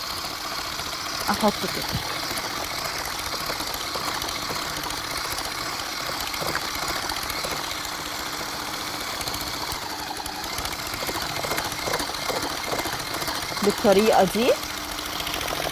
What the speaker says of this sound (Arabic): يفضل مضرب كهربا عشان انا عايزاها ناعمه قوي